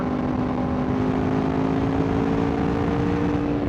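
Aprilia Tuono V4 Factory motorcycle with a BT Moto Stage 1 tune, rolling on in sixth gear around 6,000 RPM, giving a smooth, loud, steady engine drone heard close up with wind noise.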